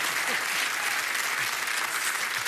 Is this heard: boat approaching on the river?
no